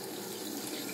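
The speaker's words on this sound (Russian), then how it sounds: "Просто включаем воду." Water running from a Gappo faucet into a bathroom sink, a continuous close splashing rush at steady volume, with no voices.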